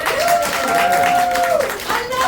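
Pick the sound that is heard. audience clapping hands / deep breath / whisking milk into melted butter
audience clapping hands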